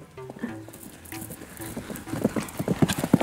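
During a riding lesson, a horse's hooves clip-clop on the ground as it moves toward a gallop. The hoofbeats are faint and scattered at first, then grow louder and more rhythmic, with voices heard intermittently.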